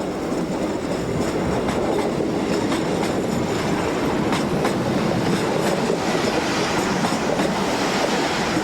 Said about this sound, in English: Class 1200s are also employed on the more frequent service along the Algarve between Lagos and the Spanish border